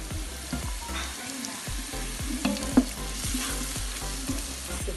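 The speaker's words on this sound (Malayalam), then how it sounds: "ഇതെല്ലാം കൂടി നല്ലവണ്ണം ഇളക്കി ചേർക്കുക." Spices for Bukhari rice stirred in a sizzling pan, the spoon scraping in quick, regular strokes against the metal over a steady frying hiss, close and fairly loud.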